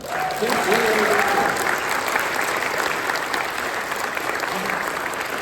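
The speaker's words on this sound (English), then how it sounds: "huge round of applause for you guys for coming out tonight" Audience applause fills a comedy night at the Australian Antarctic Research Conference, a steady, dense wash of clapping sustained throughout with a few brief cheers or voices near the start.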